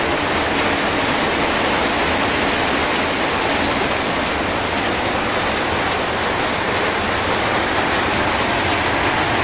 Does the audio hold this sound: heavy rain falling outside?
yes